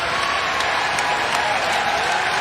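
A college basketball crowd cheers and applauds loudly and continuously in an arena during a North Texas at Western Kentucky game, a dense wash of clapping and shouting.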